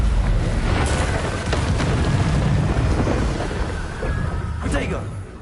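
A Confringo blasting spell explodes in the Hogwarts Legacy video game with loud, rumbling booms. Sharp blasts punctuate a thick roar that fades slightly at the end.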